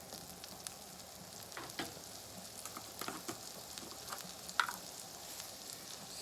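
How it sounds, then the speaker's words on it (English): Chopped leeks frying in a soup pot while being stirred, a steady faint sizzle with scattered crackles and soft scraping taps from the spoon, close and quiet, with no voices. "Give it a little stir."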